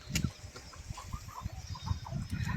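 Desi free-range chickens on a village poultry farm cluck and chatter in a steady murmur, with soft repeated calls and scattered bird noises close by, no speech.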